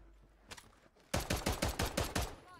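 Rapid bursts of automatic gunfire from a Warzone match, about eight sharp loud shots in a quick steady rhythm after a faint early pop, close and dominant with no talk over them.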